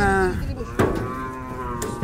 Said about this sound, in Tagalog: Preskong-presko talaga mga kalabaw.